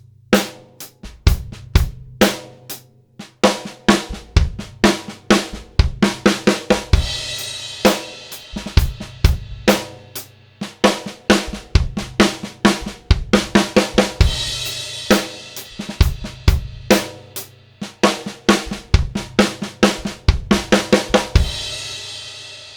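A drum kit plays a fill with the left-hand notes accented, sharp hits coming in repeated rhythmic bursts across about twenty seconds, loud and close with no voice.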